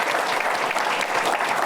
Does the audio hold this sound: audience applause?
yes